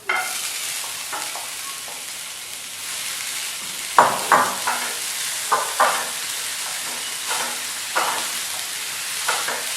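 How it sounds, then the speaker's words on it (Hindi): Modak filling stirred in a pan as jaggery is added, with a soft continuous sizzle and occasional louder scraping strokes of the spoon against the pan, no voices. "इसी तरह से लगातार चलाते रहना है और इसी में हम गुड़ डाल देते"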